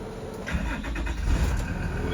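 A bus engine cranks and catches, settling into a low, rumbling idle heard up close with no one speaking.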